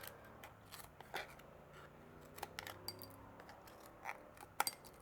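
Scissors snipping animal hide into small pieces for making hide glue, a handful of sharp, irregular cuts and light clicks, close but quiet, with no speech.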